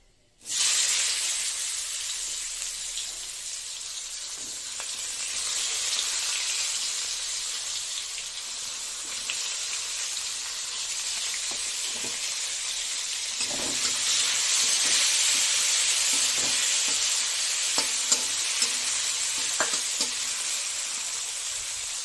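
Chopped onions sizzle steadily in hot oil for a fish curry, a loud continuous hiss with occasional faint clinks of a utensil, no voices.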